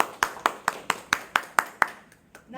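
A single person claps eight times in a steady, even rhythm, crisp and close in a quiet room, followed by a couple of faint trailing sounds.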